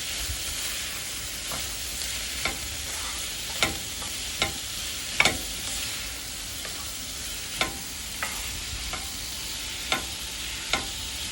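Cabbage and potato sauté with spices in a pan, a constant close sizzle broken by intermittent scraping and clicking stirs at irregular intervals.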